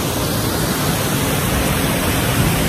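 A waterfall at Pyin Oo Lwin, Myanmar, pours in a steady, loud, broadband roar that holds unbroken throughout, with no voices over it.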